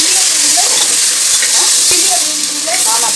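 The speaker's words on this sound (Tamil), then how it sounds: "இது எல்லாத்தையும் போட்டு நல்லா வதக்கணும்" Tomatoes, green chillies and curry leaves sautéing in a single pot for sambar rice, giving a steady loud sizzle with faint scraping stirs and soft voices in the background.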